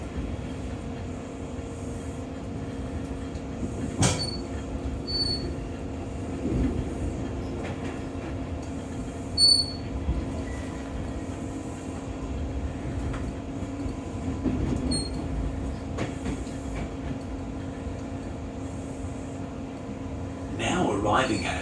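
A Brisbane commuter train at a station, heard from inside: a steady low rumble and ventilation hum, a couple of door chimes and thuds, then the train pulling away with faint wheel squeal, under onboard announcements.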